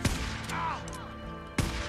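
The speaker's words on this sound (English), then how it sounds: "Uh-oh, sniper's got him." A sniper rifle shot in a shooter video game cracks sharply at the start, and a second loud report follows near the end over a steady bed of game sound and ambience.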